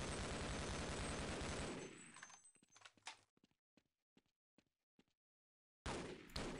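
Rapid gunfire in the Half-Life video game, a loud sustained burst that breaks off into several sharp separate shots, then a short gap and one more loud blast.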